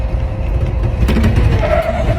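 A manual-transmission car driven by a learner lurches as the clutch is popped: a loud, close, rough engine-and-tire rumble that swells slightly toward the end, with no voices.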